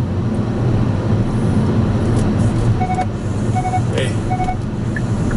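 Hyundai Kona 1.6T N-Line engine and road noise while driving, a steady loud low rumble throughout, with someone speaking briefly over it and faint chimes.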